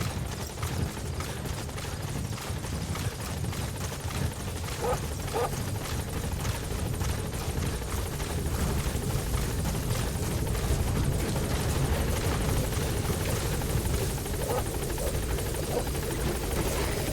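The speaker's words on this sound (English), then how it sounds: "Support helicopter has arrived." A support helicopter arrives in Metal Gear Solid V: The Phantom Pain, its rotors producing a loud, continuous chopping drone that holds steady for about seventeen seconds.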